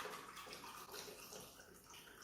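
Water pours steadily into a glass close by, a continuous splashing gurgle lasting a couple of seconds with no one speaking; the water is Kangen water.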